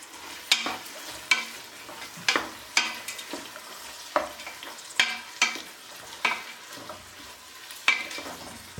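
Tomato, green chili and capsicum are sautéed in a pan, with a gentle sizzle under regular spatula strokes that scrape and tap roughly once a second, close and fairly quiet.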